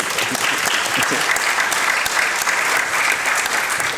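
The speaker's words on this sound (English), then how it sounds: "Please give him a big round of applause" Applause from a summit panel audience at FIFA headquarters, a steady dense wash of clapping through the whole stretch, fairly close and even, with no speech over it.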